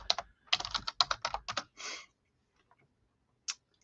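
Typing on a computer keyboard, with a quick burst of close, crisp key clicks followed by a longer key press, then silence and one final isolated click.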